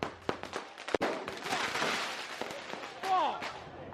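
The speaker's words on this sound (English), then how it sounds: "I just got hit by fireworks." Fireworks crack and bang sharply at a UK car meet, several loud pops in quick succession amid crowd noise and shouting voices nearby.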